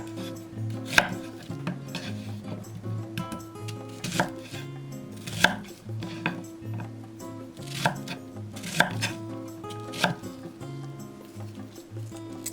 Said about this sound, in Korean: 고명양파 한 개는 반을 갈라서 무와 비슷한 크기로 잘랐다